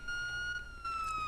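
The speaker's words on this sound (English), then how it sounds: "Who left their sirens on?" A police car siren wails with a steady, near tone, shifting pitch partway through.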